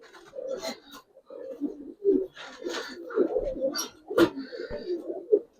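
Jabra-coloured Giribaz pigeons coo repeatedly at close range in a series of soft, throaty bursts, with brief gaps between phrases and faint sharper calls mixed in.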